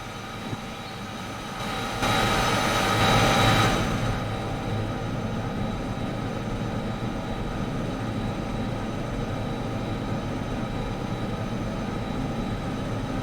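A diesel locomotive in Derail Valley works at maximum throttle with sand down while barely accelerating: a steady, droning engine roar with a swell of louder rumble and hiss near the start, then a constant heavy hum.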